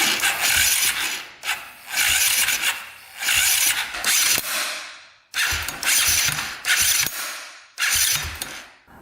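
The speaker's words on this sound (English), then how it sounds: "I'm pretty sure the noise is the one-way bearing." The electric starter on a KTM 450 dirt bike cranks in repeated bursts, grinding and ratcheting from a noisy one-way bearing, six or so harsh, close mechanical pulses separated by short gaps, with no talking.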